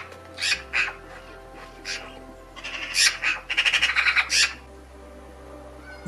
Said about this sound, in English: They have a distinctive rattling call, which is quite abrasive. It's almost like a chattering.